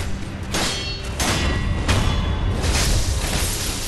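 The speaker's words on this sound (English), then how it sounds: "Those firecrackers are quite useful." Firecrackers burst in the video game Sekiro: Shadows Die Twice, loud cracking pops and thuds over a dense, roaring combat din, with several sharp bursts spread across the stretch.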